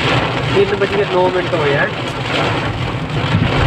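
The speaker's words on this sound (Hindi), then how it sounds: "मंडी पहुंचते ही हमें बहुत ही जोरों से बरसात मिली" Heavy monsoon rain drums steadily on a vehicle in Mandi, Himachal Pradesh, a dense continuous wash throughout, with a voice speaking briefly over it.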